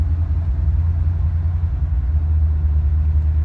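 A 1940 Chevy truck rolling down the road, heard from inside as a loud, steady low engine rumble and drone with no voices.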